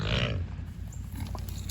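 A pig on a farm grunts in a few short, low, rough bursts at close range, loud against a background of outdoor noise.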